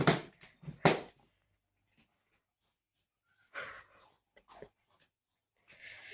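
A few sharp dog barks or snorts close by, then a long quiet stretch before several more short huffing bursts.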